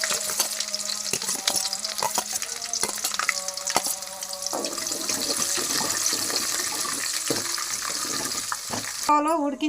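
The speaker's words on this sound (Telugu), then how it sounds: "ఉలవచారు తాలింపు పెడుతున్నాను." Mustard and other tempering seeds sizzle and crackle steadily in hot oil for a horse gram soup, a loud, continuous frying hiss with scattered pops and occasional clinks of a spoon throughout.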